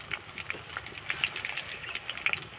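Green and dry chillies fry in hot oil with a steady, faint sizzle and crackle. Small pops break through here and there.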